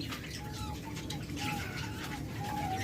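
A pet dove, hand-raised from a chick, coos softly in repeated short notes against a noisy, cluttered background with faint voices nearby.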